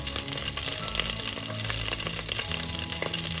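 Bay leaves and peppercorns, with cardamom, sizzle and crackle steadily in a hot pan of oil for a creamy Afghani chicken gravy, a dense continuous frying hiss with occasional sharper pops and no voices.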